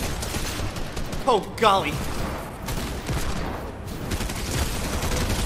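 Bursts of gunfire crackle through a Fortnite Zero Build match, rapid volleys mixed with game mechanics, while a player lets out a short exclamation over the shooting.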